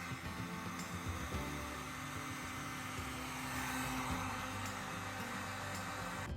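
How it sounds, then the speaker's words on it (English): A cheap Harbor Freight heat gun runs continuously, a faint, steady fan-driven hum and airy hiss that holds throughout with slight wavering, and no voices over it. "we're using the cheapest heat gun you can get from Harbor Freight"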